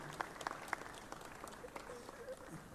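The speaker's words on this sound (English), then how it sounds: "Keep clapping, keep clapping, keep clapping." A conference audience applauds in a faint, distant wash of clapping with a few sharper claps near the start, while a voice talks over it.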